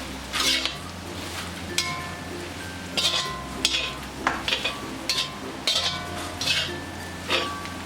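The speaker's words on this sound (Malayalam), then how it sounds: "ഇനി ഇതിലേക്ക് ഫ്രൈ ചെയ്ത് വെച്ചിരിക്കുന്ന ബീഫ് ചേർത്ത് നല്ലതുപോലെ ഇത് മിക്സ് ചെയ്ത് യോജിപ്പിക്കാം" Stirring fried beef into pickle masala in a pan, with repeated close scraping and metallic clinks of the spoon against the pan in an uneven rhythm, loud and alone.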